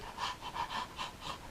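A person imitates a panting dog with quick, rhythmic breathy huffs, about five even pants in a row, close and fairly soft with no talking.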